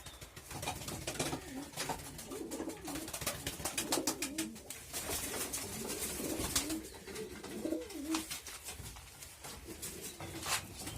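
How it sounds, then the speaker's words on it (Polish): Racing and fancy pigeons coo in a home loft in the evening, with soft repeated throaty coos from several birds close by over a dense rustling background, with no talking. "Także teraz jest, są 42 gołębie."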